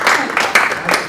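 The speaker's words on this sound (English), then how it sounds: "Let's clap." A few people in a community education subcommittee meeting clap briefly, giving several sharp claps close by alongside speech.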